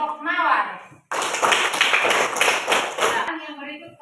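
Classroom applause for a student group, about two seconds of brisk, close clapping from a small group, with people talking just before and after.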